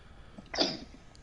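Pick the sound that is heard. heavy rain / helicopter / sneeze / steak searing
sneeze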